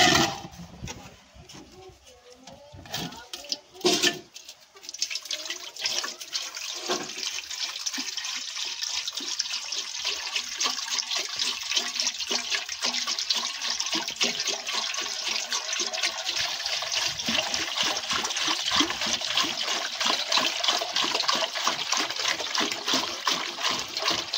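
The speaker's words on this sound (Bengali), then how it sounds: "চলো এবার এখানে এদের চানের জন্যে জল দেওয়া যাক।" Water pours and splashes steadily into a bath for pet pigeons, a continuous rushing stream with a brief clatter near the start, loud and close throughout.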